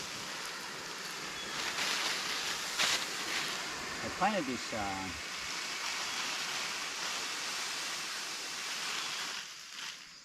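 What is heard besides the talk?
running water from micro hydro penstock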